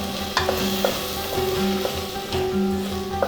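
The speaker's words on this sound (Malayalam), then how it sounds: "ഇത്രയും ചേർത്ത് നന്നായിട്ട് നമുക്കൊന്ന് ഇളക്കി കൊടുക്കാം." Chicken curry spices, garam masala and pepper powder, stirred in a pan, a spoon scraping and clanking in a repeated rhythm over a loud sizzle, close and with no voices.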